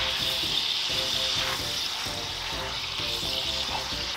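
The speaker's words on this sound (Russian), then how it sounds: "Карамелизируем наш топпинг со всех сторон в течение 4 минут." Chicken sizzles and crackles steadily as it caramelizes with sugar in a hot frying pan, with occasional soft scraping as it is stirred.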